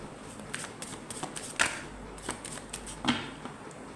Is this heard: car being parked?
no